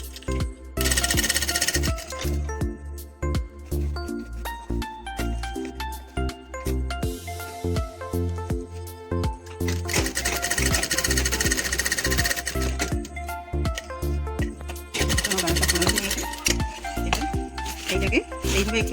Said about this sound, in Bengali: সেলাই করে নিচ্ছি।